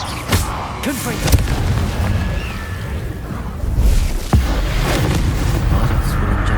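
Confringo spell blasts in Hogwarts Legacy go off as loud booming explosions, several sharp cracks and heavy thuds spread across a few seconds over a rumbling game background.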